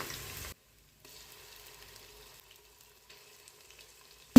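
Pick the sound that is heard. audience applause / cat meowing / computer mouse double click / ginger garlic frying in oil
ginger garlic frying in oil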